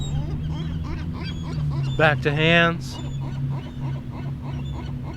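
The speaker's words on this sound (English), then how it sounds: "Seagulls are upset." Agitated seagulls cry out at a marina in a burst of loud, harmonic calls midway through, while a yoga instructor keeps talking over steady outdoor background noise.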